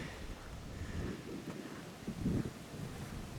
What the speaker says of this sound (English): Friggin' windy.